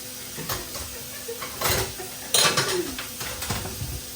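Dishes and utensils are washed at a home sink: pots and cutlery clatter and clink in scattered bursts, with one sharper metallic rattle partway through, fairly close over a low background.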